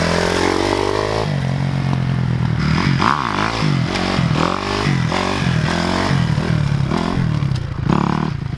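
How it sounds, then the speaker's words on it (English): Dirt bike engine held at steady revs with throttle rolling on and off through a wheelie, loud and close, with clattering mechanical noise throughout and no talk. "all you gotta do is kind of pop the clutch a little bit, give it a little throttle"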